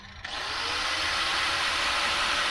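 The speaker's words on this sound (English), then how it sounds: "So right now I have connected the grinder, so let's use it." An angle grinder powered from a portable power station starts with a brief click and quickly spins up to a loud, steady high-pitched whine that holds without a break, close up and with no one talking.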